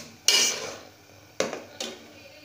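Onion and tomato paste is stirred in a metal pan, giving three distinct scraping clinks of a spoon against the pan, the first longest, with quiet gaps between and no voices.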